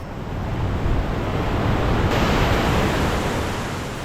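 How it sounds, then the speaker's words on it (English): Attukad waterfall in Munnar, Kerala gives a dense, continuous roar of rushing water, loud and steady throughout with no other sounds. "right now we are at one of the Munnar's most spectacular natural wonder, Attukad waterfall"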